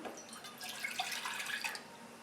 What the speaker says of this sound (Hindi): फ्रॉस्टिंग बनाने के लिए मैं पैन में डालूँगी 1 कप पानी